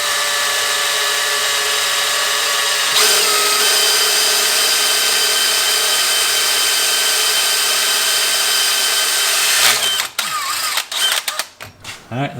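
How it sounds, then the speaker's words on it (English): A power drill bores a hole in the exhaust manifold of a Ford 7.3 Powerstroke diesel, a steady loud whine that rises at one point and runs for about ten seconds, then stops into clanks and handling noises. "Got the hole drilled in the manifold"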